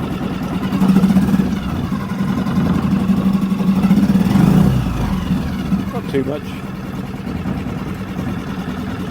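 A Suzuki outboard boat engine drones steadily at idle close by, with someone talking briefly over it and some clatter near the end.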